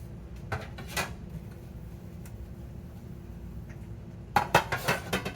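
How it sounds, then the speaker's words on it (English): A utensil stirring simmering homemade spaghetti sauce in a pot gives a few light clinks early on, then a quiet simmering stretch and a brighter cluster of scraping knocks near the end, close and fairly soft. "The sauce is still on and it's simmering. Just keep stirring real light."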